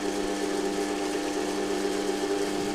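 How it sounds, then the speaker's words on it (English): A homemade 2x72 belt sander grinder runs a sanding belt at steady speed, a continuous close motor whine and belt hum with a strong fixed pitch and no pauses, alone. "Next, we're going to test for the first time with this sanding belt."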